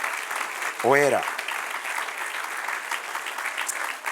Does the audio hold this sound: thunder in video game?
no